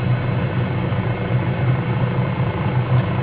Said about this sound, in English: Very pleasurable about flying a helicopter down a river.